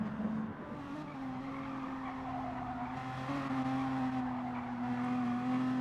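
A Honda NSX and a McLaren race car in a racing video game, their engines holding a steady, loud drone with a rising pitch, alongside faint tire noise, without any voices.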